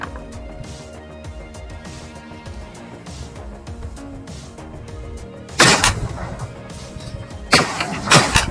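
Two loud shotgun blasts from a quail hunt in open countryside. They stand out against a steady outdoor background, the first near the middle and the second about two seconds later.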